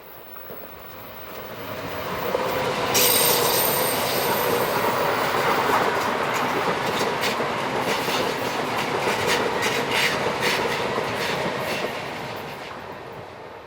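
A Class 610 Eurocity train, unit 112 on the Basel to Venezia service, passes close by, its rumble swelling in and fading out, with clattering wheels and a brief high squeal, no voices.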